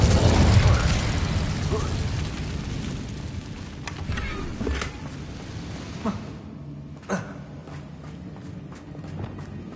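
Incendio fire spell cast in Hogwarts Legacy, an opening roaring whoosh of flame that fades into crackling and scattered sharp pops.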